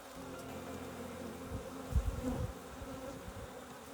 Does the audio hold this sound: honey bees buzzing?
yes